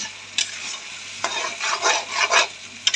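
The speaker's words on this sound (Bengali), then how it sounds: "এখন আমি মশলাটা ভালোভাবে কষাবো।" Spice masala for mutton curry fries in a pan as it is stirred hard, giving bursts of sizzling hiss and scraping that swell and fade in uneven waves, close up, with no talking.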